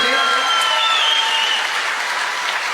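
Loud, sustained applause from a crowd of students filling the room, a thick continuous roar of clapping with faint shouts or whistles mixed in, fairly close.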